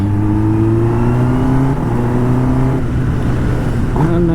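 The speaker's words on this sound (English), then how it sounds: "in fact starting the bike after almost more than 20 days" A Kawasaki ZX10R superbike idles loud and close after sitting unused for about twenty days. The engine holds a steady rumble with a slight pitch shift near the end, and no voices are heard.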